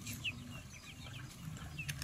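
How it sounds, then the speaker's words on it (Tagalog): Chickens on a farm cluck faintly in scattered short calls, with light chirps over a low background hum as they wait for feed. "Nara ang mga naghulat ng mga manok."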